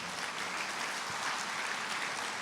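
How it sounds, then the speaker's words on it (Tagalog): Sustained applause from a congregation at a church service, a dense even patter of clapping hands continuing at moderate loudness without pauses. "Ang hina naman ang palakpak mo kay Lord naman niya."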